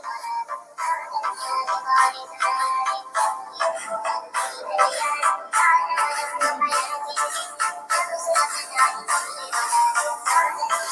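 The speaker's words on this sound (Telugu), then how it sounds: "యూట్యూబ్లో ప్లే చేసిన వీడియో సంబంధించిన ఆడియో అనేది మన ఇక్కడ వాచ్లో అనేది రావడం జరుగుతుంది" Song from a YouTube video playing through the built-in speaker of a NuRepublic Bold 2 smartwatch, thin and mid-heavy with a steady rhythmic pulse that runs continuously, moderately loud and close.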